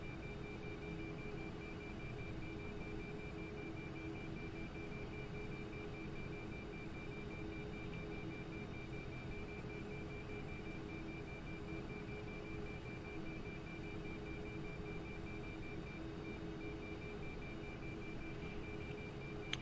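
A cockpit warning in a flight simulator game beeps steadily and repeatedly at an even pace. The beeping sits over a constant loud engine and cabin hum, and no voices are heard.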